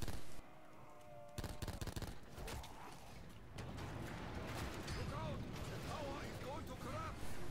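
Video game gunfire aimed at a water tower, with bursts of shots and mechanical clatter in the first half and then continuous game noise. A voice talks over it.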